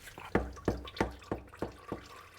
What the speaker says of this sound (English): Make sure our pan is in a good spot to collect any drips.